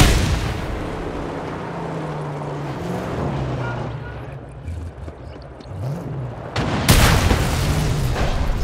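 An explosion in the Mad Max video game as a vehicle's fuel tank is shot: a sustained rumbling engine-and-gunfire bed gives way to a sudden loud, broadband boom near the end that keeps roaring afterward.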